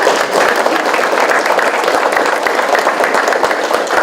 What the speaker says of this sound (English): let's give our moderator, Barbara Gailey, a round of applause.